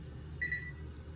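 A microwave oven runs with a steady low hum, and a brief higher tone rises over it midway through; no one speaks.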